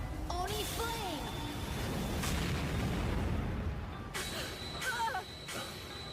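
Anime fireball spell, fire and earth magic of phosphorus fragments ignited, bursting with a broad rumbling roar and crackle, mixed with tonal magic whooshes and sparkly chimes.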